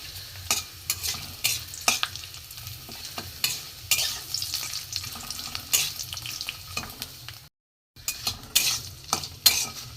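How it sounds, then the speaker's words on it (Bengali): Papad fries in hot oil in a home kitchen: a close, continuous crackling sizzle with repeated sharp scrapes and taps of a utensil against the pan, dropping out for a brief pause. "পাঁপড়গুলো ভাজা হয়ে যা ভালো করে ভেজে নিতে হবে, যেমন পাঁপড় ভাজা হয়।"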